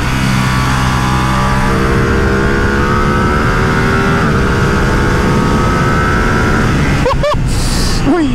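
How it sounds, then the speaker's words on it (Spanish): A Ducati Streetfighter V2 motorcycle engine accelerates loudly while climbing through the gears, its rising drone riding over heavy wind rush before quick pitch swings near the end. "tiene mucho torque y mucha respuesta, se siente deliciosa la respuesta de esta moto. El sonido es bacano"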